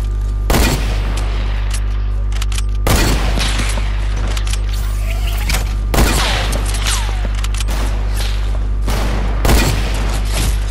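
Gunfire in the Fortnite video game: four loud, sharp gunshot bursts spaced about three seconds apart over a steady electronic game hum, with no talking.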